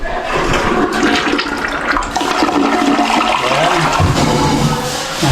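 Toilet flushing in a newly finished bathroom, a loud continuous rush of swirling water close by, running throughout without a break.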